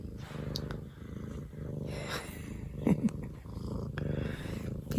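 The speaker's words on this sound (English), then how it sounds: "People like your purrs." A house cat purrs close by in a steady low rumbling rhythm, with a few faint clicks and bird chirps in the background.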